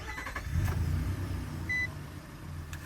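A 2022 Nissan Frontier SV pickup engine starts and settles into a steady low idle rumble, heard from close by, with a brief electronic beep partway through.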